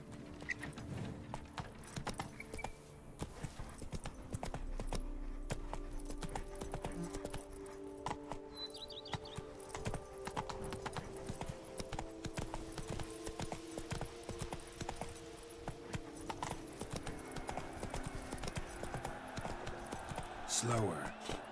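Roach the horse trots steadily in The Witcher 3: Blood and Wine, rhythmic hoof clip-clops running throughout under game music and a talking voice.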